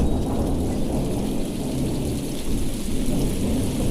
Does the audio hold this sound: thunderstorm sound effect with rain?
yes